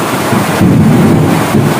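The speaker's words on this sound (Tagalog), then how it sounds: "Lakas po ng kulog" Loud thunder rumbles low and deep, a rolling roar mixed with wind buffeting the microphone across the short stretch.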